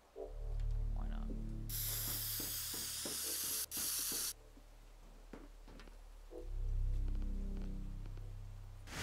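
Spraying in the video game Teardown: a loud, steady hissing spray that holds for about two and a half seconds. Low music or ambience sits underneath, with a few scattered clicks.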